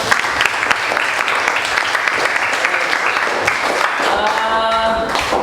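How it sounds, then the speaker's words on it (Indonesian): Pupils in a classroom give a round of applause, dense overlapping hand clapping that stays loud and steady for several seconds before thinning out under a few voices. "Oke, beri tepuk tangan."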